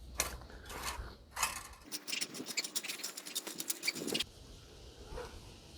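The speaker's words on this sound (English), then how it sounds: "Now I'm just going to go ahead and rake that in so that it becomes generally flat" A rake drags top dressing soil across a bare lawn spot in freezing weather, giving close, uneven scraping strokes with brief pauses, and the densest burst of gritty rasps comes midway.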